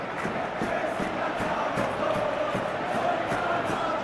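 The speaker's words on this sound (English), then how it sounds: "The crowd appreciates good football all round there." Steady crowd noise from a football video game fills the stadium, a continuous roar of cheering with rhythmic chanting pulses, held at a constant level.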